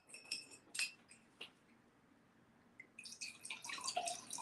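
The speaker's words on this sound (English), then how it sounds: "Why don't you pour a sample of each so it's equally on each glass?" Drinking water poured into glasses to compare samples: a few sharp glass clinks and drips up front, a quiet pause, then a closer, fuller trickle of pouring water with light clinks toward the end.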